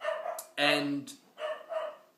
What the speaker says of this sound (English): Excuse my dogs, they're going nuts at someone outside.